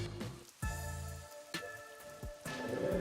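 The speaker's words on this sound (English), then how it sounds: "Okay, it's raining" Steady rain falls in the Raincode Vivia DLC video game, a moderate wash with a few sharper splashes or thuds, heard alone without voices.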